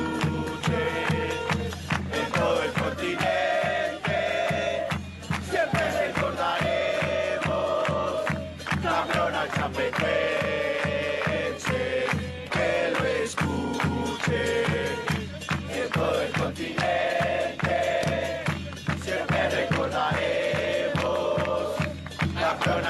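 A huge crowd of Atlético Nacional supporters in Medellín sings a tribute chant for Chapecoense in unison, loud and sustained, with rhythmic claps and drums driving a repeating melody across the whole stretch.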